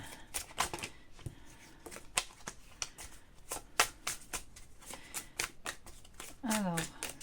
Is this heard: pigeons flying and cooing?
no